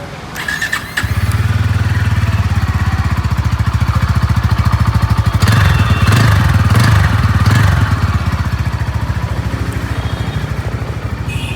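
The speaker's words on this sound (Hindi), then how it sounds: "बाइक को स्टार्ट करते हैं और आपको इस बाइक का साउंड सुना देते हैं।" A Bajaj Pulsar N160 motorcycle engine starts after a second of quiet, then runs loud and close with a steady, throbbing, bassy idle and a brief rev in the middle.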